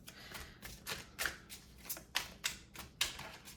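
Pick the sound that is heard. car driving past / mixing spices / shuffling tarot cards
shuffling tarot cards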